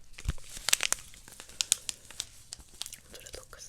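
Plastic tea packet packaging crinkles and crackles in close, irregular bursts of sharp rustling, with a few louder crisp crunches scattered through soft handling noise.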